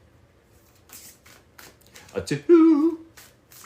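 Tarot cards riffled and shuffled in quick bursts at close range, crisp papery flutters answered by a reader's counting voice that briefly rises over the deck.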